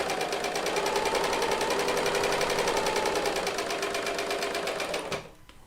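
A serger sewing machine runs steadily while chain piecing quilt-top fabric, its fast rapid stitching hum loud and close for about five seconds before stopping abruptly.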